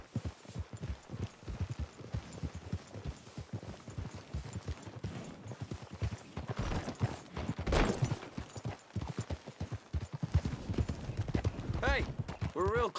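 Horse hooves clip-clop steadily on the ground in the Red Dead Redemption 2 video game, moderately close, with voices talking over the hoofbeats and game sounds around them.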